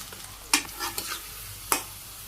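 Onions frying in hot oil for crisp beresta for chicken biryani, heard as a soft, quiet sizzle with a few sharp scraping stirs of a spatula in the pan.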